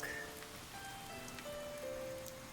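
Steady rain falling in the farming video game Harvestella, a soft even patter with faint chiming game tones on top, quiet and without talk.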